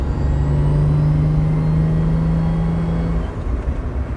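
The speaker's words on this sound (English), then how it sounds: "it just whines like crazy. When I'm cruising, not so bad, but definitely when I'm on the throttle." A 1977 Toyota Celica RA28 on the throttle gives a steady high-pitched differential or gearbox whine over a loud, rumbling engine and road drone, heard from inside the car.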